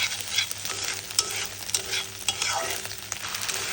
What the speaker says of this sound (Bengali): ডিমগুলো সুন্দরভাবে ভেজে নিচ্ছি আমি।